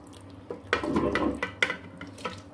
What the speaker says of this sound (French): je vais ajouter la crevette que j'ai marinée tout à l'heure